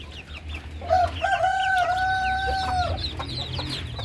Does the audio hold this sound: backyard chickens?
yes